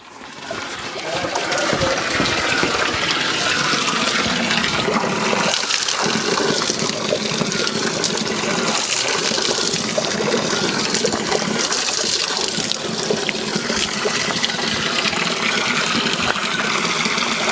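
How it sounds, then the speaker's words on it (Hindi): Water gushes and trickles steadily at a village spring used as a drinking source in Nava village, Pauri, Uttarakhand, a continuous close splashing flow with no voices. "ये हमारे नाव गांव का पंदेरा है और बचपन में यही हमारे पीने का मुख्य पानी था"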